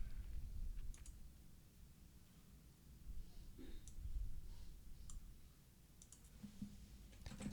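Someone types on a computer keyboard in a multicast chat program, producing faint, irregular clicks and key taps in quick scattered bursts over a low background hum.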